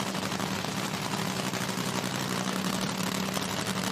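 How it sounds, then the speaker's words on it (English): Drag racing car engine at IHRA Outlaw Nitro Series Pro Mod and Top Fuel qualifying in Hebron, Ohio, idling slightly high: a loud, steady, rough low rumble with rapid crackling pulses, continuous and close, with no talk. "Sounds like it might be idling just a touch high"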